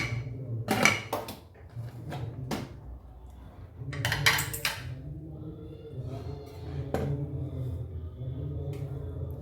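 Metal clanks and clatter as a pressure cooker lid is twisted and lifted off cooked masala rice, a few sharp knocks over a low steady hum.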